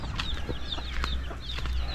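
Chickens in a backyard coop cluck and chirp close by, several short calls over a steady low rural background.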